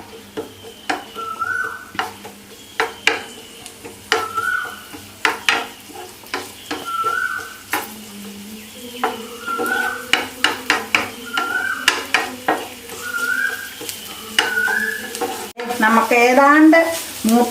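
Ingredients for tomato chutney sizzle in a pan while being sautéed, a steady close frying hiss broken by repeated sharp clinks of a spoon stirring against the pan.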